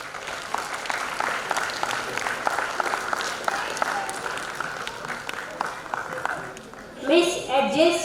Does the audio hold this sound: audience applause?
yes